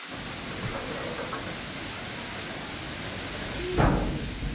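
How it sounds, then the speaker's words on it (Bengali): A heavy storm with rain and wind gives a dense, constant roaring wash of noise, and a brief low thump stands out near the end. "প্রচণ্ড ঝড় হচ্ছে, বৃষ্টিটা একটু কম হচ্ছে, মাঝামাঝি বৃষ্টিটা জোর হচ্ছে খুব।"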